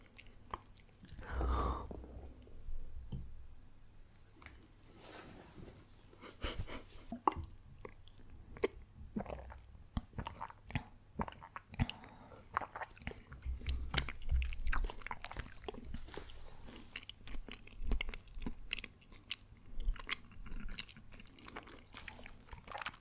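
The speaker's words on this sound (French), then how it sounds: "J'ai trop hâte de mâcher les petites perles." Tapioca pearls from bubble tea being chewed close to the mic, soft wet squishy bites repeating irregularly throughout, quiet and intimate with no talking.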